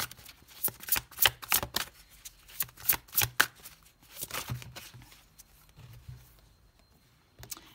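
Oracle cards from the Le Secret deck being shuffled by hand, a run of crisp riffling bursts and soft slaps at close range, thinning toward the end with a final flurry.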